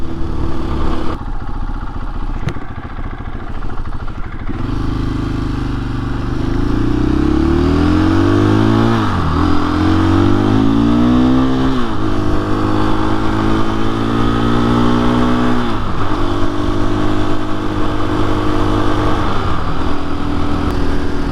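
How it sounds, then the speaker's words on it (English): A KTM motorcycle engine runs steadily under a rider, loud and close, with a wind-buffeted drone and rising revs as it climbs through gears, dropping pitch at each shift. "Run the KTM."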